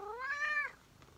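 A grouchy cat lets out a single drawn-out, rising and falling meow close by, followed by near silence.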